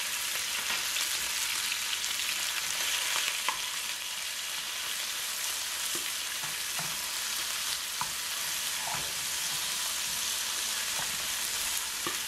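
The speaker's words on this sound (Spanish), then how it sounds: "lo que vamos a hacer es que vamos a sofreír la carne" Beef stir-frying in a pan for Chinese fried rice gives a loud, constant close sizzle with occasional faint pops and stirring sounds, no talk.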